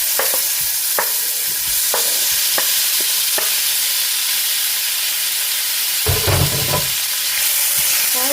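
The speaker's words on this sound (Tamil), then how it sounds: "இதை கொஞ்சம் ஸ்மாஷி கன்சிஸ்டன்சி வர வரைக்கும் நீங்கள் வந்துட்டு ஃப்ரை பண்ணிட்டுருங்க" Tomato pieces sizzle and fry in a pan for a black urad dal chutney, with a steady hiss and a few sharp clinks of a spoon stirring, then louder spatter and scraping near the end; no one speaks.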